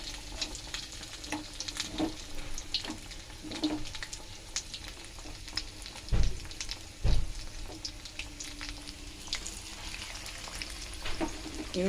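Egg-battered fish pieces for chilli fish frying on a high gas flame produce a constant close sizzle with scattered pops, spatters and a couple of heavier clunks from stirring.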